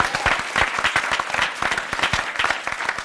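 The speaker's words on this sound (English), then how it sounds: "you can clap for that" Audience applause at a civic honoring ceremony for a pastor and preacher in Houston, a dense burst of many hands clapping at once, loud and close, with no voices over it.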